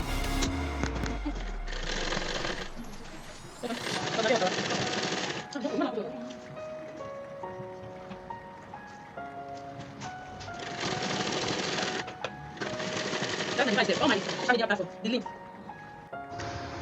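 A sewing machine runs in bursts of steady mechanical stitching, sewing the side seam of a skirt, stopping and starting several times, with low hum and some talk in between.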